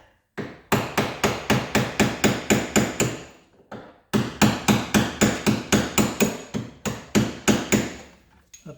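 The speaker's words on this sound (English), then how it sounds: "I have a little punch here, just a piece of steel. A screwdriver would do it. I'm just going to tap it." A small steel punch taps against a boat's shaft log in two rapid runs of sharp metallic hammer strikes, about a dozen each, separated by a short pause, close and loud.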